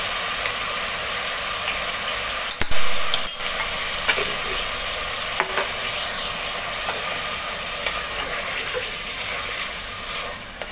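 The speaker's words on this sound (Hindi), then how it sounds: "इसकी भुनाई करेंगे अच्छे से।" Mutton with ginger-garlic paste sizzling in a pan while being stirred, with a few sharp knocks of a utensil against the pan and a constant frying hiss underneath.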